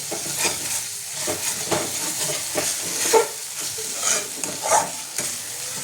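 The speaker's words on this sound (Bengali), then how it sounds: "মশলাটা আমার কষা হয়ে গেছে, দেখো কি সুন্দর তেল ছেড়ে দিয়েছে। এবার আমি এটা নেড়ে দেবো" A Bengali-style spice paste fries in oil as it is stirred, with crackling sizzle and a string of close scraping strokes at an uneven rhythm, with no talk.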